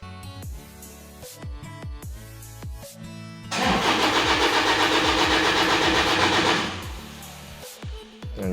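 A Toyota Innova diesel engine cranks without catching: the starter whirs in steady rhythmic pulses, then a louder, denser stretch of cranking runs for about three seconds before the pulses return. It is close-up, with no talking.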